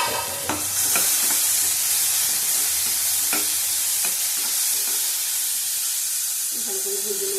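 Vegetables fry in a pan with salt and a little turmeric, giving a steady close sizzle and hiss, broken by scattered spatula clinks and stirring scrapes, with a faint voice near the end.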